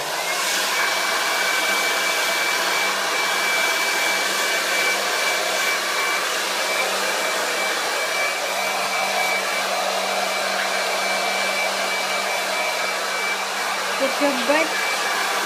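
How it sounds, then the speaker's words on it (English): A hair dryer blows steadily and loudly during a Pomeranian's bath, a constant whooshing hum with a faint high whine that continues throughout, with a brief spoken phrase near the end. "And now she waits for the hairdryer."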